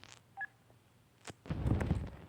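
Phone dialing tones in a video game as a call is placed to a mechanic: a few short beeps early, then a burst of busier electronic sound toward the end, fairly quiet overall.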